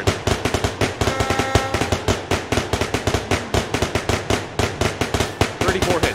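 Rapid gunfire from weapons in the VR shooting game Bullet Train VR, dozens of sharp close shots in quick bursts with brief gaps, loud and continuous throughout.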